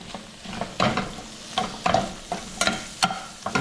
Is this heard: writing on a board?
no